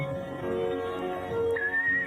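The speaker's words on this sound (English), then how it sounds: "That kid's trying to whistle." A child whistling a few thin, wavering notes, faint and set against background crowd murmur and ambient noise.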